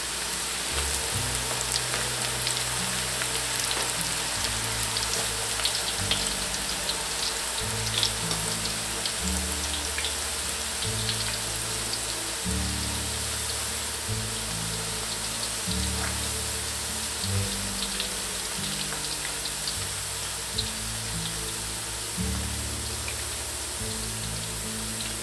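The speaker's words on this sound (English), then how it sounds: "Then fry our shallots. In the beginning, we can use high heat." Shallots frying over high heat in hot oil in a pan, giving a dense, continuous crackling sizzle like heavy rain, steady and close for the whole stretch, with no one speaking.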